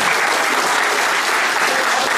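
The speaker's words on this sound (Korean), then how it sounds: "다 큰 박수 한번 드리겠습니다." Steady, loud applause from an audience at a year-end humanities gathering in Songpa, continuous and dense throughout with no speech on top.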